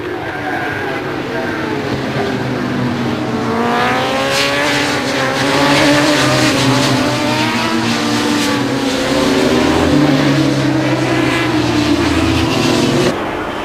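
Superbikes lapping at the Imola endurance race, their engines rising and falling in loud, sustained passes, with high revving whines sweeping by and crowd or track ambience beneath.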